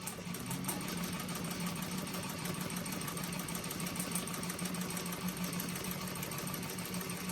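A sewing machine stitching a bag right beside its cording, running in a steady rapid whir of needle strokes that continues unbroken, close by and with no talk.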